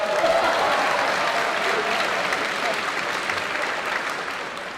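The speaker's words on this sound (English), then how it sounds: "you can clap" An audience of about 1,200 at a university debate event claps, a dense burst of applause that swells at the start and slowly tapers off.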